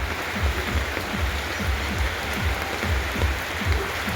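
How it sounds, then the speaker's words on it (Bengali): Steady rain pours down on a village during outdoor cooking over a wood fire, a constant close hiss of drops with soft, regular low thuds underneath. "এই বৃষ্টিতে ভিজে ভিজে রান্না হচ্ছে"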